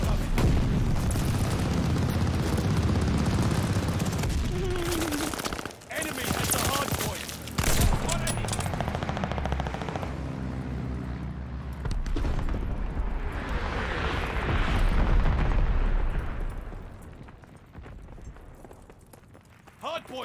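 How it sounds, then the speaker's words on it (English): Bombing run explosions in Call of Duty Vanguard rumble as repeated heavy booms amid gunfire and battle noise, with a player's voice and game chatter heard over the din. "Allies called a bombing run."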